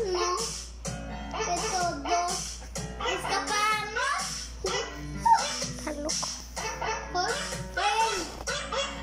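A dog whimpers, yips and barks close by in a home, its sounds mixed with a voice and other chatter running through the whole stretch.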